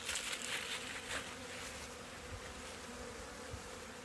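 A mass of honey bees from a caught swarm buzzes steadily and close up, a dense continuous hum with a few brief louder passes of individual bees near the start.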